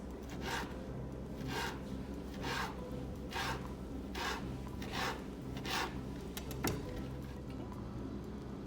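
A knife cuts mushrooms into thin strips on a cutting board for a Chinese vegetable stir-fry, a steady series of soft, evenly spaced slicing strokes close by with one sharper knock near the end.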